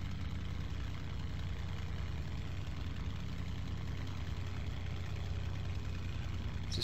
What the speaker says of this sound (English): I can hear a Merlin engine behind us,